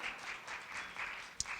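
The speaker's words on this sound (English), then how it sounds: "we'll take applause" Soft audience applause at a poetry celebration event, a faint steady patter of clapping from a modest crowd with one sharper knock near the end.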